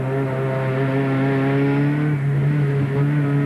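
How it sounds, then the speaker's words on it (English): A turbocharged 16-valve Ford Sierra Cosworth race car engine drones steadily at high revs with a smooth, wispy turbo tone, loud and close, holding a sustained pitch throughout. "Sierra Cosworth makes that wispy noise from the 16-valve engine with the turbocharger tagged onto it."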